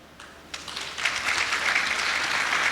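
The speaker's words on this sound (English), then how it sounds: "I would like you to clap your hands to welcome those that are coming from outside OR Tambo" An audience at an outdoor development imbizo in Mthatha, Eastern Cape, claps hands in welcome, starting sparse and swelling into steady, fairly loud applause.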